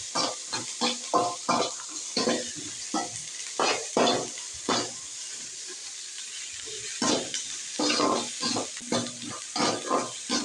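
Onion sautéing in a pan for a spinach stir-fry, with a soft sizzle beneath rhythmic, evenly spaced spatula strokes scraping the pan in bursts.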